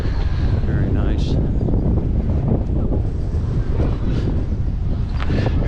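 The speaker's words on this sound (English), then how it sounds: "It's rather breezy compared to this morning when it was just very calm" Strong, steady wind buffets the microphone at Fremantle boat harbour, a loud continuous roar with faint bird calls and harbour noise underneath.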